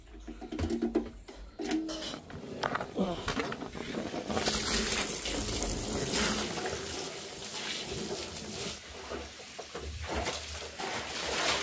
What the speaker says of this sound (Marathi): आता हे दोन्ही ड्रम धुऊया आपण बोरिंगच्या पाण्याने.